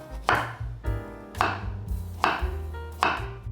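A knife chops through purple sweet potato on a board in five sharp, evenly spaced strokes, each landing as a crisp close thud on the surface.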